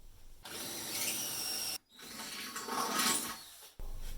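A power drill bores from underneath through a mounting panel for a Jeep Wrangler onboard air compressor, two close, loud bursts of whirring separated by a short pause and ending abruptly.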